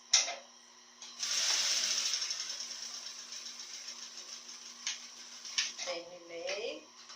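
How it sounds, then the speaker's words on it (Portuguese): Domestic sewing machine stitching fabric for a tulip cushion cover, a steady buzzing run of a few seconds that starts after a brief click and trails off, followed by short mechanical clatters near the end. "Então eu vou costurar número 3."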